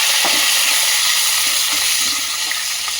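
Green chilies sizzle and crackle in hot oil while being stirred for akki rave upittu, a steady close frying hiss with faint spoon scrapes and no talk.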